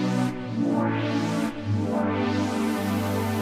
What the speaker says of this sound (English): with this particular one we've got saw waves.